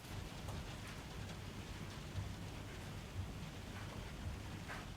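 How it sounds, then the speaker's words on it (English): Steady rain falling, a soft, even patter and hiss that holds without pause at a low, distant level, with no voices. "Let's listen to the rain."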